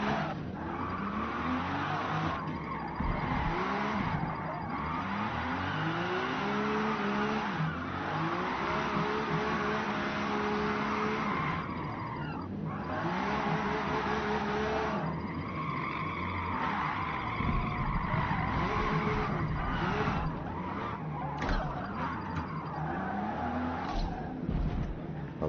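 A car drifting in the Forza Horizon video game: its engine revs rise and fall in sweeping pitches, and tires skid and squeal repeatedly, with a voice talking intermittently over the driving.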